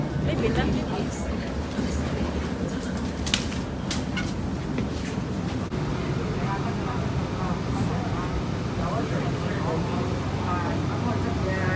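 A Hong Kong light rail train runs toward Tin Yat with a steady low rumble and rattling rolling noise throughout, with a few sharp clacks early on and crowded chatter of passengers in the car.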